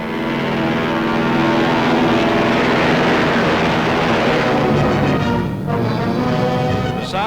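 A Martin Mars flying boat of 8,000 horsepower, a giant 72.5-ton plane, takes off with a loud, steady propeller drone that holds throughout, with no talk.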